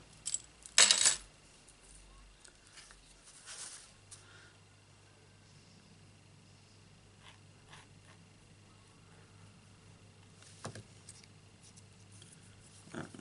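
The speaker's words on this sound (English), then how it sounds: "Let's cut that corner off." Scissors cutting the corner off a piece of black card in a quiet craft setting, a couple of sharp snips near the start, then light handling taps and faint rustles.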